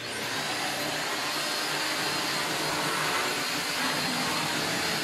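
Compact Deerma DX115C portable vacuum cleaner running steadily at close range, a loud continuous broadband whir with a high-pitched motor whine, no talking.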